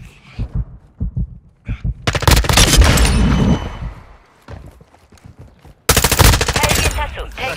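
Machine gun fire in the PS5 multiplayer game Call of Duty: Modern Warfare 2, with short single shots early, then loud sustained automatic bursts, a pause, and another heavy burst near the end, all close and dry.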